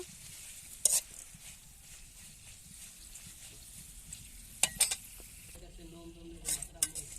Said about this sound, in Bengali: শুকনো মরিচগুলো একদম খুব সুন্দর করে তেলের উপর ভেজে উঠিয়ে নিব